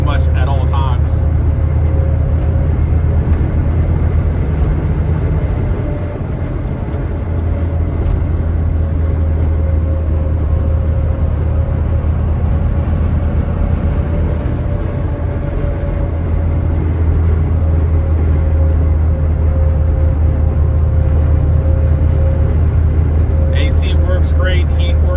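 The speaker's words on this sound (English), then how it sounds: "tons of turbo boost, a lot of spool from the turbo" Hummer H2 swapped with a Duramax diesel and Allison transmission, its deleted, upgraded-breather turbo spooling as a constant loud whistle over a heavy, droning diesel rumble heard from inside the cab.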